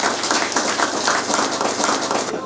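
An audience at an Indonesian community gathering breaks into brief, loud, continuous applause, with many hands clapping together for a couple of seconds.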